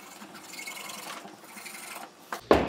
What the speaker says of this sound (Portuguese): Vou dar uma afinada agora com a faca